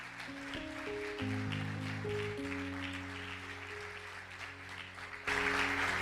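A church congregation claps for the word of God during a Spanish-language service. Sustained organ or keyboard chords play first, then a loud burst of applause rises near the end.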